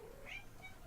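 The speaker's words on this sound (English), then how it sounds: "You do hear a kitty." A cat meows once, briefly and faintly, in an indoor room over a low background hum, with no other sounds standing out.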